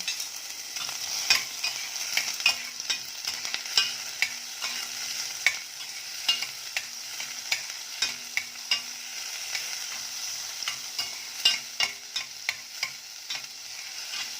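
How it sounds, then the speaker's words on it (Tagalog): Garlic and onion sauté in a pot, with a steady sizzle under frequent sharp clinks and scrapes of a utensil stirring against the metal, close and fairly quiet. "Gisa na natin diretso sa kasirola. Lalagyan natin yung bawang, sibuyas."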